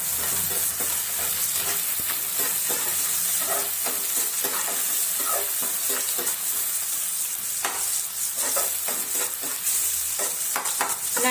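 Onions and potatoes sizzle in hot oil for a potato curry, a continuous close hiss broken by repeated scraping and stirring clicks from a spoon against the pan, with no talking.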